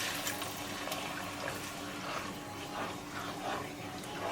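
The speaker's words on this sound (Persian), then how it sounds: "بهش یه لیوان آب اضافه میکنیم" A glass of water poured into a cooking pot of sour Talesh-style shami kebab sauce with pomegranate paste and bitter orange, a steady, close, continuous splashing rush lasting several seconds.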